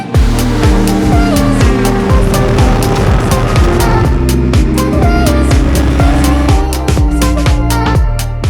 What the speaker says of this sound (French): on part explorer encore une fois une nouvelle catégorie du sport auto, la Legends Car